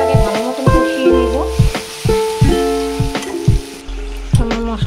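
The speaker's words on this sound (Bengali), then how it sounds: "মশলাটাকে ভালো মতন কষিয়ে নিব।" Spice masala with cumin seeds sizzles and is stirred in a hot pan for matar paneer, a steady loud frying hiss broken by repeated scraping strokes of the spoon, with strong tonal sounds running alongside throughout.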